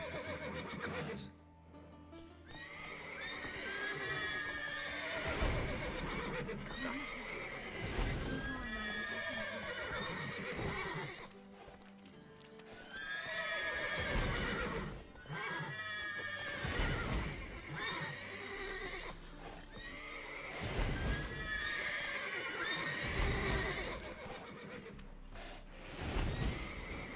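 Horses in the video game The Witcher 3 neigh and whinny repeatedly, loud and close, while hooves clip-clop alongside over a layered game soundscape.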